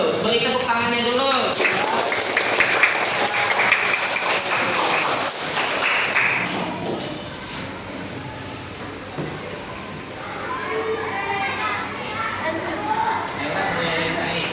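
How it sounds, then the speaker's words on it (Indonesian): Third-grade primary school children clap hands in a classroom, a loud lively burst of mixed clapping early that fades into chatter and children's voices for the rest. "Beri tepuk tangannya dulu."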